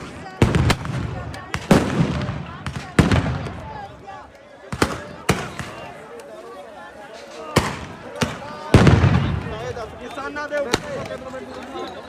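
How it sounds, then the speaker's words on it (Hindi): Repeated loud bangs from gunshots and tear gas shells, sharp and booming, go off at irregular intervals at a farmers' protest over a background of crowd noise and voices. "आपको गोली चलने की आवाजें आती रहेंगी। ये आंसू गैस के लिए छोड़ा जा रहा है,"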